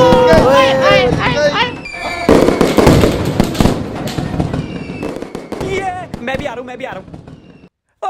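Fireworks and firecrackers going off in Delhi in loud, dense crackling bursts and whistling rockets, with people talking and shouting over the din.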